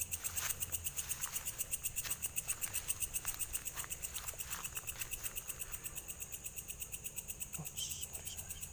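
Crickets chirp in a dense, steady pulsing chorus beside a pond at night, with low frog croaks mixed in, continuous and moderately near without talk.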